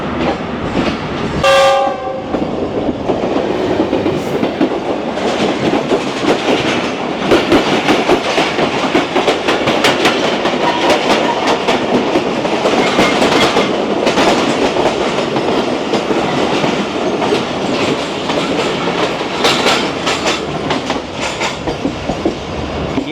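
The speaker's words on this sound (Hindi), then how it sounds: "हमें घोटकी स्टेशन पर क्रॉस किया है 40 डाउन जाफ़र एक्सप्रेस ने" The 40 Down Jaffar Express from Peshawar to Quetta crosses at Ghotki station: a brief horn blast, then a loud, continuous roar of passing cars with rhythmic clickety-clack of wheels over rail joints, close by throughout.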